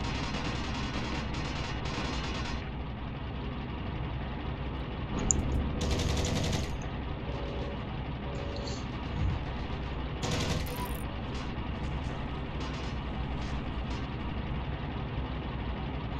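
Gunfire in the WWII shooter Heroes & Generals, a few sharp shots rising over a steady rumbling tank engine drone, otherwise a constant mechanical backdrop with no clear talk.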